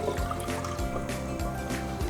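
Water poured into a cooking pot to start a syrup for sweet-and-sour watermelon preserves, a steady close liquid splash and fill with no talking.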